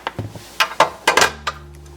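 Spoon or whisk clinking and scraping in a mixing bowl while stirring chai sugar cookie dough, a handful of separate close knocks and scrapes with short pauses, ending in a low steady hum.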